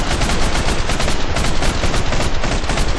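Loud, sustained machine gun fire in a first-person shooter video game, a dense rapid stream of shots with no break, close and dominant.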